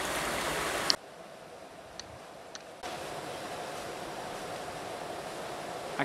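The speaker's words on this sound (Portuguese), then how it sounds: "E aqui a vazão da água aqui é bem forte. Desce bastante água." Strong water flow at the Baependi-MG hydroelectric power plant: a dense, steady rushing roar that drops briefly in level, then resumes at full strength.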